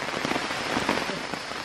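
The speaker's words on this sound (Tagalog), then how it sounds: "inabutan na kami ng malakas na ulan" Heavy rain pours down in a dense, steady hiss with close spattering drops hitting surfaces, continuous and fairly loud throughout a short stretch.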